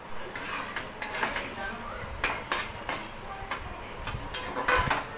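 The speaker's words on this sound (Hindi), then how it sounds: "और इसको अच्छे से मिक्स करेंगे हम शक्कर को टमाटर में" A spoon stirs sugar into tomatoes in a pan while making a sweet-and-sour tomato chutney, giving repeated light metallic clinks and scrapes at an uneven rhythm, close and fairly soft.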